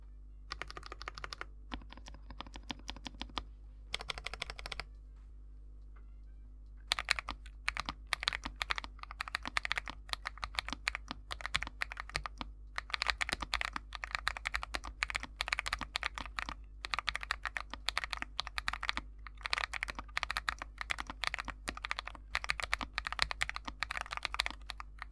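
Steady typing on a Gas67 budget 65% mechanical keyboard with linear switches: a continuous stream of close, crisp key clacks in bursts, with brief pauses and a few louder strikes.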